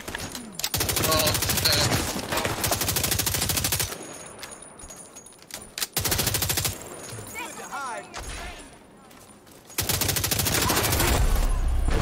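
Loud bursts of automatic gunfire from The Division 2 in hardcore mode, dense volleys in long stretches separated by brief quieter gaps with lighter shots, heavy and close throughout.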